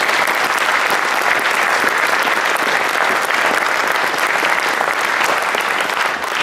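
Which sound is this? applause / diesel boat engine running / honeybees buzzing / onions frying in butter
applause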